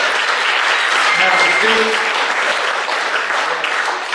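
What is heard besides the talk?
audience applause at a banquet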